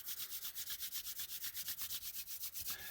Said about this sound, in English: Palms together, rub them.